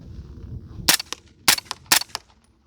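Five quick suppressed pistol shots fired with Ammo Inc subsonic rounds through a DeadAir Wolfman suppressor, sharp cracks in an uneven rhythm, each with a short mechanical clack, fairly close and alone.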